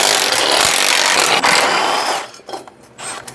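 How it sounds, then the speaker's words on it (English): Power tool, likely an impact wrench, running steadily for about two seconds as it removes exhaust manifold bolts on a Mustang's 2-valve V8, then stopping and leaving quieter clattering. "we're gonna take the manifold bolts out on this side"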